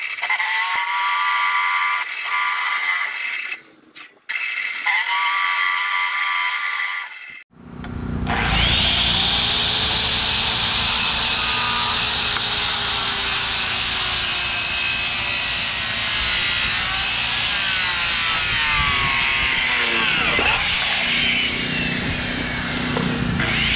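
A power drill bores half-inch bolt holes in a sailboat trailer bracket, a loud sustained grinding whine that starts after a few short bursts and carries on steadily with a shifting pitch, no voices.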